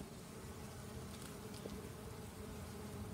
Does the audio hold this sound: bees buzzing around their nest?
yes